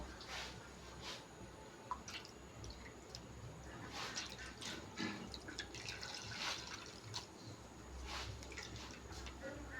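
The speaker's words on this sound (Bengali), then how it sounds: "এবার আমি এটা চিপকে জলটা ঝেড়ে নেব।" Liquid drips and trickles steadily as grated coconut is squeezed by hand to press out coconut milk, a soft continuous wet patter with scattered louder drops, fairly close and without talk.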